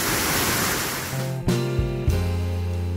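A waterfall in Mazamitla, Jalisco, swollen and sediment-laden in the rainy season, roars with a dense, loud rushing hiss. About halfway through, the roar gives way to sustained tonal music.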